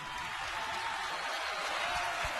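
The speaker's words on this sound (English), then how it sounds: "he deserves a nice round of applause" A sports arena crowd at an NCAA basketball game, SDSU versus St. John's, applauds as a player fouls out, a steady dense wash of clapping and crowd noise that holds at an even level throughout.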